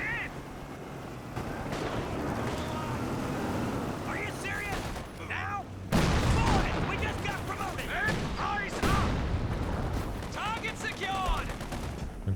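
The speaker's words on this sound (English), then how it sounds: "here comes some major artillery" Artillery barrages in a Company of Heroes 2 2v2 match, with heavy booming impacts and bursts of gunfire crashing in over ongoing battle noise, loudest around the middle and near the end, while a commentator talks throughout.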